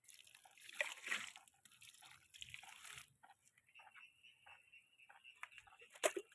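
Water trickles and drips softly onto newly planted chilli seedlings in a pot, faint, close splashes in short uneven pulses.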